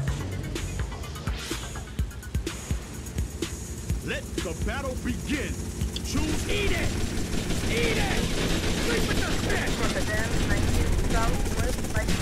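A steady helicopter drone runs throughout in GTA Vice City, with bursts of rapid gunfire and mechanical clatter, while someone talks over the top.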